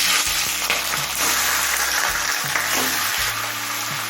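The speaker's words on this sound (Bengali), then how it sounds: "তেলটা হাই ফ্লেমে গরম করে নিলাম এরপর চিকেনগুলো দিয়ে দেবো" Chicken pieces go into mustard oil heated over a high flame, producing a steady, loud sizzle and hiss that runs throughout, along with some low tonal background sound.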